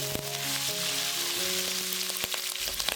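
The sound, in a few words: stir-frying beef with ginger and scallion in a wok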